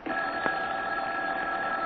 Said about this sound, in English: As we rejoin him and his wife, Molly, the phone is ringing.